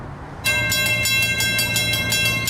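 The San Marco train passes, its crossing bell ringing in steady repeated strokes over a low rumbling drone of railcars rolling by close at hand, starting abruptly and holding loud throughout.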